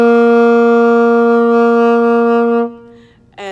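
A saxophone mouthpiece alone produces a single steady, bright, buzzy tone held for over two seconds, played by a beginner, loud and close, then stops, followed by a brief rustle.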